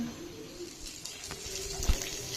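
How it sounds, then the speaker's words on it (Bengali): Soybean oil pours into a pan while bitter gourd fry is being made, a thin steady trickling hiss running for a couple of seconds with a few light knocks near the end. "সোয়াবিন তেল দিয়ে দিচ্ছি পরিমাণ মতন।"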